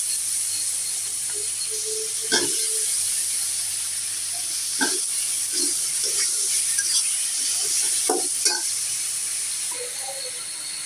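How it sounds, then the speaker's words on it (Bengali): Bottle gourd and potato fry in a pan with a steady, even sizzling hiss, broken now and then by soft clinks and scrapes of stirring close by. "এখন আমি কেটে রাখা লাউ আর আলু দিয়ে দিব"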